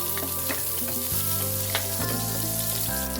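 Garlic sautéing in coconut oil in a wok, a steady close sizzle under a continuous tonal hum, with a few sharp clicks from stirring and no talking.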